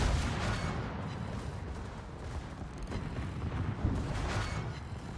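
Ship guns firing in the World of Warships naval game, a steady wash of distant, rumbling cannon fire and booms layered over continuous battle noise, with no distinct single shots standing out.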